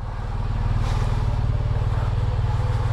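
A motorcycle engine idles close by during a pre-ride check, its low, even putter steady and loud from start to finish with a faint light clatter mixed in.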